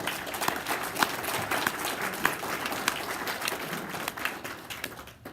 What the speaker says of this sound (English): give a warm round of applause for Senator Thane